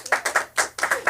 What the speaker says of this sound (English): a round of applause for your producer,